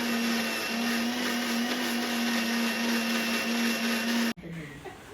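An electric mixer grinder whirs steadily and loudly as it grinds a batter of raw jackfruit, green chilli, ginger and salt for jackfruit ambade, then cuts off abruptly near the end, leaving a quiet room.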